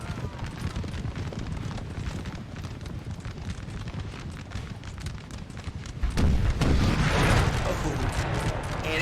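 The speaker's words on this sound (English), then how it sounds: "but I think it gets punched by artillery" Artillery fire in a Napoleon: Total War 3 battle, a continuous rumbling barrage of cannon and musketry with galloping cavalry, swelling louder and denser near the end.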